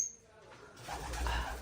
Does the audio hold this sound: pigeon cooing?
yes